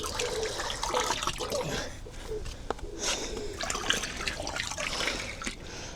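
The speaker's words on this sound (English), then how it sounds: "so now I'll just put about a cup full of bleach in." Bleach poured from a cup into a pool, a continuous watery splashing and trickling close by that runs the whole time with small drips and bursts.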